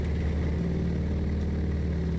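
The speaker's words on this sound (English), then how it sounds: "you can hear a distinct engine knocking, and that will destroy your engine" A simulated T-6 Texan's overstressed radial engine, knocking in X-Plane 12, drones loudly and steadily with a rough, pulsing low rumble throughout and no talking.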